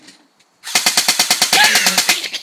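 An airsoft gun fires on full auto in one rapid, evenly spaced burst of about a dozen sharp, loud shots, after a brief quiet start.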